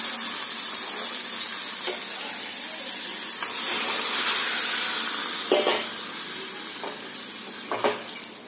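Oil sizzles steadily as potatoes and drumsticks fry in a pan, a continuous hiss with a few brief clinks and scrapes near the end.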